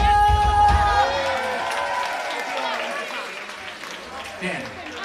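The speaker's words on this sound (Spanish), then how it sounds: "¡Fuerte aplauso!" A rock concert crowd in A Coruña claps and cheers after a call for applause, a loud, dense wash of clapping and whoops trailing off under lingering stage sound.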